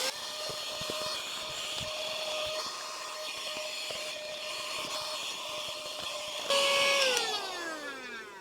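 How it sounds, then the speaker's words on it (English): A small vacuum whirs steadily with a constant high-pitched whine, its tone shifting and rising briefly near the end as the motor changes. "we'll get my little mini vacuum cleaner"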